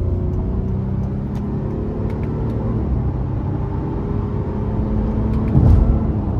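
A 2023 Honda Pilot EX-L with the 3.5 engine accelerates under throttle, its engine note a steady low drone with rising tones as it pulls, heard from inside the cabin, swelling slightly toward the end.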